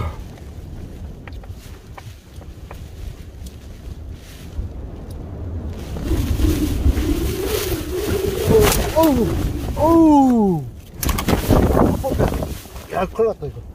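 Strong gusting wind on a rainy mountain buffets the microphone in heavy, rumbling surges that build and roar loudly, with a voice exclaiming briefly amid the gusts.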